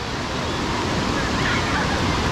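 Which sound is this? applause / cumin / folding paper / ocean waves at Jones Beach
ocean waves at Jones Beach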